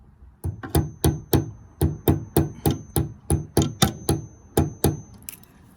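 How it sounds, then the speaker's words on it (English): Sharp, gentle taps driving a plastic rivet into a Porsche gas cap, about fifteen close, evenly spaced knocks in a steady rhythm, alone without speech. "So we just gently tap that rivet in."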